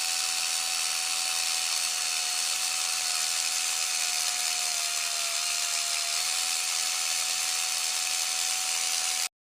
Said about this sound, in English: While holding the impact wrench, use and collide the impact wrench with the highlighted lug nut.